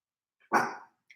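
A single sharp bark from Tatum the dog, close and fairly loud, with a short faint yip just before it and a tiny trailing sound after, otherwise quiet.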